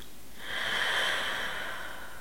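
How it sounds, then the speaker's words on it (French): One deep breath drawn in slowly and released, close and audible with a soft airy rush that swells and fades, alone without talk. "Arrêtez tout, prenez juste une grande respiration."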